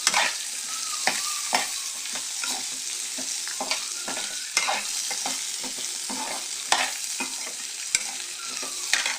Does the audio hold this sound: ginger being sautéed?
yes